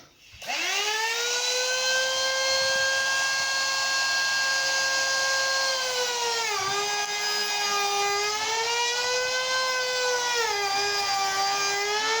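A power tool with a steady high whine runs continuously while cutting a kitchen worktop mason mitre, loud and close, with the pitch dipping briefly as the cutter loads in the material.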